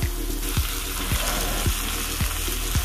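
Masala on a mutton raan roasts on a low flame, giving a steady loud sizzle throughout with repeated soft thumps at regular intervals.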